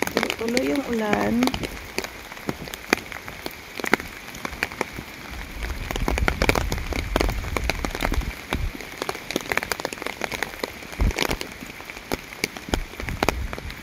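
Steady rain pours down outdoors in chilly UK weather, a dense, continuous patter of drops with sharper splashes, a brief voice at the start.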